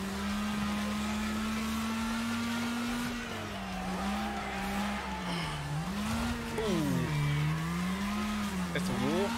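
Video-game car drifting through town, a continuous engine tone that bends and dips as the car slides, with tire squeal and skidding layered over it.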